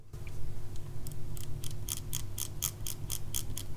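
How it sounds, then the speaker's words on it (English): The notched rotary crown on a Logitech Craft keyboard gives a run of crisp, closely spaced clicks as it turns, over a steady low hum in a quiet room. "the rotation is notched. It's not completely smooth."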